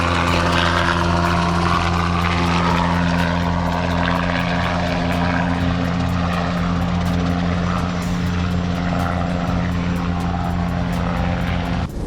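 A Brantley B2 ultralight helicopter in flight gives a loud, steady engine drone with a pulsing rotor beat, holding constant throughout with no voices.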